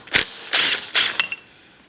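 A wrench turning the clutch nut on a 1981 Yamaha YZ250 two-stroke, three sharp metallic ratcheting bursts at close range, the last trailing into a faint tick before quiet.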